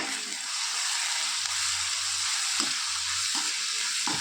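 Tomatoes frying in a pan with chicken sausage give a steady, close sizzle throughout, broken by a few soft stirring knocks and scrapes.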